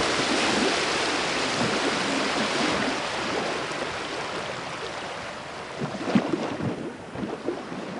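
Sea waves off an Indian coast, a steady broad wash of surf with wind-like rushing and a few louder surges near the end, without speech.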